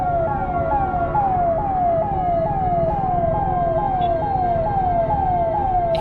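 A loud ambulance siren wails in a fast repeating rising sweep, close by and constant, with traffic rumble underneath.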